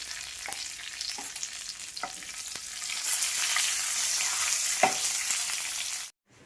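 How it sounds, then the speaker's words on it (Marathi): A hot tempering with curry leaves and asafoetida hits coconut chutney, a steady close sizzle with a few light clinks, cut off abruptly at the end. "तयार केलेला तडका यावरती टाकून घ्यायचा आपल्याला चटणीवरती"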